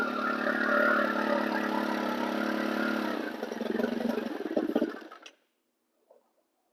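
A small two- or four-stroke engine with a leaking crankshaft seal idles steadily, then stumbles and dies after brake cleaner is sprayed behind the starter cup, leaving near silence with a faint clink afterward.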